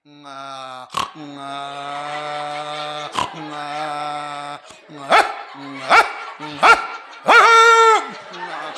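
During a comic bharud folk performance, a voice imitates a dog, with sustained whiny howls broken by short sharp bark-like yelps, loud and close, ending in a longer strained yowl.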